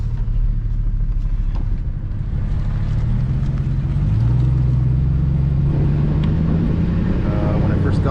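A 1999 OBS pickup truck, previously in an accident and with a few mechanical hiccups, drives along with a loud, steady engine and road rumble that rises slightly in pitch midway as it accelerates.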